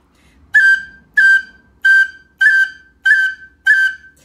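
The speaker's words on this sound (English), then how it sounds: "This whistle doesn't take much air, so I tend to overblow sometimes when I play this one." Six short, bright tin whistle notes played one after another at an even pace, each starting with a slight chirp from cut ornaments, clear and close with quiet gaps between.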